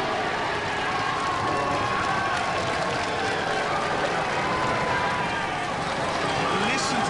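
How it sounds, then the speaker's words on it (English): A Robot Wars arena crowd reacts loudly to a judges' decision favouring the robot Stinger, a dense, sustained roar of mixed cheering and shouting that fills the space without a break. "Listen to that crowd."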